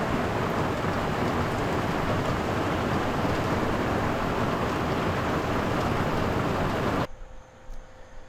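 Steady rain pours down outdoors at a boatbuilding site where a keel is being laid, a dense, loud, even hiss lasting several seconds before it cuts off abruptly, with no voices.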